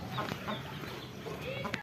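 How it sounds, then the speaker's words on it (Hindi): Roosters fighting in a wet village yard, a big one attacking a smaller one, with quick clucks and scuffling squawks at moderate distance while people talk faintly in the background. "छोटे मुर्गे को मार रहे हैं बड़ा मुर्गा"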